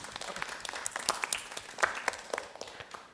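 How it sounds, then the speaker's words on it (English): A symposium audience at a women's leadership event applauds a group of women, with individual hand claps standing out in an uneven, moderately full round of clapping that swells briefly midway. "Please, a round of applause for the ladies."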